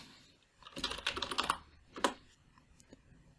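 Quick bursts of typing on a computer keyboard, close and fairly quiet, a rapid cluster of key taps followed by a couple of isolated presses.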